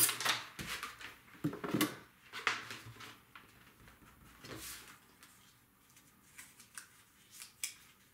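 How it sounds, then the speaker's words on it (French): Scissors cut paper for a baby scrapbook album in a series of crisp snips, some quick and some drawn out. Soft paper handling and rustling sit between the cuts, with no talking. "Puis, je vais couper, je vais laisser une bande de collage."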